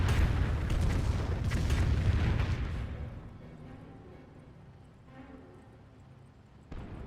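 A Calliope rocket artillery barrage in the Company of Heroes strategy game: a heavy rumbling roar of impacts that fades into a softer distant background, followed by a brief late thump.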